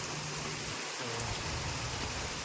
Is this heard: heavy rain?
yes